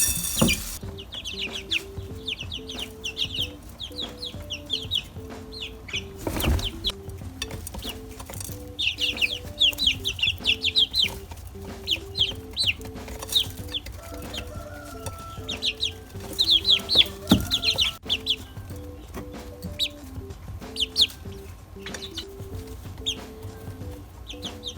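Several chickens cluck and murmur in a coop during morning chores, with steady repeated clucks near and far and sporadic louder bursts, over a faint hum and with almost no talking.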